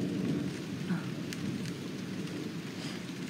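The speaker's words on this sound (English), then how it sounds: "He loves thunder and lightning." Steady rain pouring during a thunderstorm, with a low rumble of thunder beneath the constant hiss.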